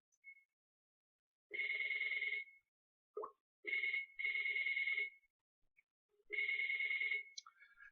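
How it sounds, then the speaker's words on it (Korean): Studio computer plays electronic ring-like alert tones as a picture is captured: several bright, clean bursts of about one second each, separated by short pauses, heard clearly against silence with no talk. "지금 나는 소리는 회사 스튜디오의 컴퓨터에 전달이 그림이 찍히는 소리입니다."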